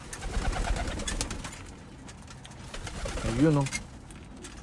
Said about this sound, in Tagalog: So ito yung mga ibon natin.